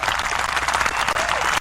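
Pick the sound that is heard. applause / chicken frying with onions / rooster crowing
applause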